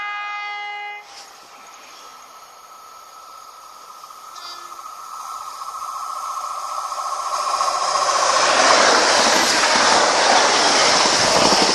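A train horn sounds at the start, then a train approaches and roars past Ashwell & Morden station, the rumble and wheel clatter growing steadily louder and filling the final seconds.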